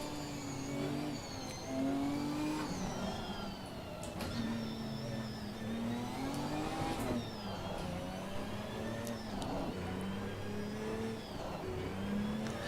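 A Ginetta race car engine in a sim racing game drones with repeated revving swells and gear changes, its pitch climbing and dropping in a steady cycle, fairly faint and with no talk.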